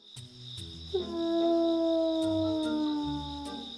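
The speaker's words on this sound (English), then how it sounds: "At such times, he'd go to his den and howl" A cartoon wolf in an animated bedtime story howls from hunger, one long sustained wail that glides slowly downward, loud and close over a soft musical background.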